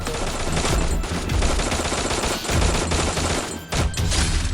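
Rapid, loud bursts of gunfire fill the scene in the battle royale game Free Fire, an almost continuous barrage of shots with barely a pause and no voices over it.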